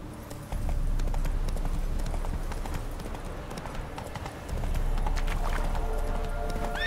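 Roach, Geralt's horse in The Witcher 3, gallops with a steady, rhythmic clip-clop of hooves over a continuous low rumble, the pace holding unbroken throughout.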